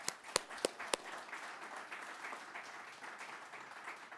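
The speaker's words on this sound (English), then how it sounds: "So please give a big round of applause for Twin Cities Rise." Audience applause at the Twin Cities Rise Coming Home reentry panel, a few sharp early claps swelling into a steady, moderately distant wash of clapping that holds at an even level throughout.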